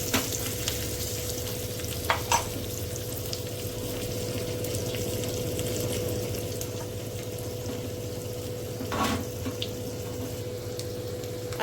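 Garlic and red chillies sizzling in hot oil for a tadka, a steady frying hiss with faint stirring clinks, heard alone without talk.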